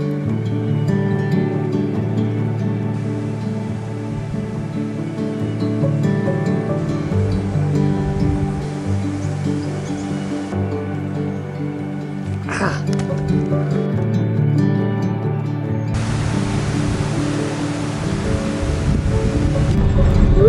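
Strong wind buffets beside the ocean while waves wash and surge in a continuous roar, growing louder toward the end, with no voices.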